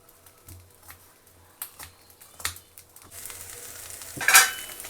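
Eggplant roasting for baigan bharta is turned over, giving soft knocks and taps at first, then a rising sizzle and a sharp hissing burst near the end, close by with no speech.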